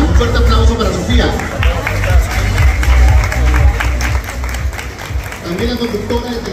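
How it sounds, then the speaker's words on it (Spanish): Audience at the Miss Mexico pageant claps and cheers loudly under a booming amplified announcer's voice, the crowd noise swelling and dipping over several seconds. "Fuerte el aplauso."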